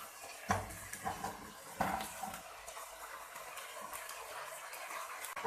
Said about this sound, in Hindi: अब ये देखें 1-2 मिनट हो गए इनको फ्राई होते हुए